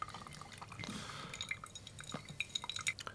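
Coffee drips and trickles through a V60 pour-over cone into a glass vessel, a steady stream of small, fairly close drips with faint clinks, no talking.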